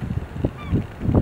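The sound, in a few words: herring gulls and ring-billed gulls calling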